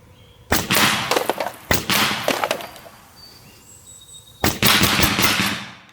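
A Skout semi-auto airgun with a magnetic LDC fitted fires three sharp, close shots spaced a few seconds apart, each followed by a short clatter.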